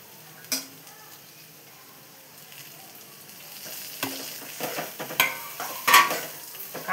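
Bitter gourd curry fries in a pan while a spatula stirs it, giving a soft, steady sizzle under scattered scrapes and metallic clinks that grow busier toward the end.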